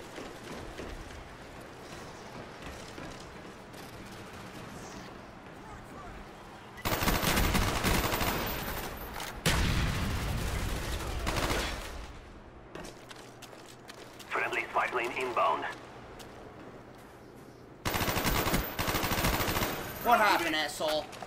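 Automatic gunfire from Call of Duty: Black Ops multiplayer on the map Summit, arriving in loud, dense bursts of rapid shots separated by quieter stretches of game ambience and faint background sounds.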